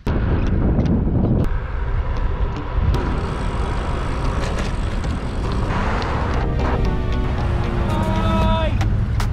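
Wind buffets a microphone during a bike ride on a road heading downhill toward a park, a loud continuous low rumble and roar filling the whole stretch, with a faint voice near the end.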